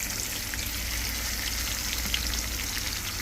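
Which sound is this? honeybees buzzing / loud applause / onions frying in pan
onions frying in pan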